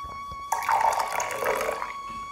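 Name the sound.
water being poured into a glass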